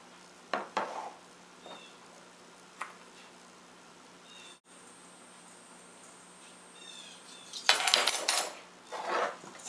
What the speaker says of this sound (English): Continue mixing them up until everything's good and coated.